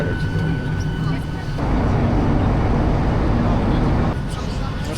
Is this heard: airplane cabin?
yes